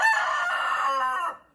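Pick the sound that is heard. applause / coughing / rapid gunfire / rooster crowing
rooster crowing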